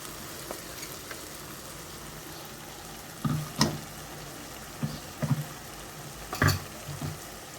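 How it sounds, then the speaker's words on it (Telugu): Masala with sesame seeds fries in a pan for masala paneer, giving a soft, steady sizzle. A few louder clinks and stirring scrapes stand out over it. "కొంచెం నువ్వులు వేసుకొని పట్టి పక్కకు పెట్టుకున్న మసాలా. కాస్త వేగుతూ ఉండాలి."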